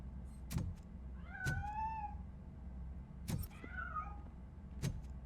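A cat in the video game RoboCop: Rogue City gives two drawn-out meows, faint and a little distant, over a steady low hum broken by occasional sharp clicks.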